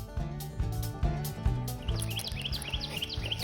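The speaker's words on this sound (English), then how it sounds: "Hear the birds" Small birds chirp in short, high, repeated calls along a wooded nature trail in a state park, fairly faint over a steady low rumble of background noise.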